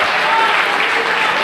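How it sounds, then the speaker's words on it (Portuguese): A church congregation claps and praises together, loud continuous applause filling the room with voices mixed in. "aplauda o nome do Senhor"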